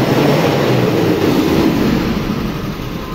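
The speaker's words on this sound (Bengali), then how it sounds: "এবার আপনাদেরকে ইঞ্জিনের সাউন্ড শোনানোর চেষ্টা করব" An old Japanese pickup truck engine runs inside a showroom with its shutters closed except one, giving a loud, steady, boomy rumble that fills the space without pause and with no voices.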